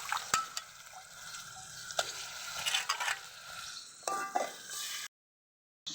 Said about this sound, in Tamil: அது கூடயே நம்ம எடுத்து வச்சுருக்கிற மட்டனை அது கூட சேர்த்துக்கோங்க